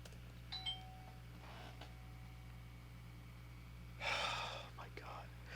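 A doorbell chime rings inside the video game Kids Say the Darnedest Things, a short clear two-note tone near the start, then breathy sounds and a louder burst later over a quiet electronic hum.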